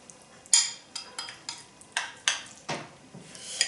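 A spoon stirring a vegan Bircher muesli mixture in a bowl, about eight soft scraping, clinking strokes in an uneven rhythm, close and fairly quiet with no talk.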